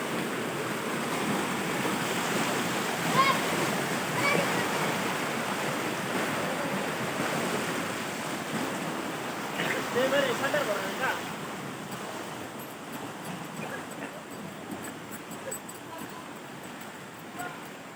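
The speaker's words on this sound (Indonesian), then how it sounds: "di sini terdapat sebuah kali yang mengalir" River flowing at the Urfu rainbow bridge in Biak, Papua, a steady broadband wash of moving water with breezy wind noise throughout, fairly loud and continuous.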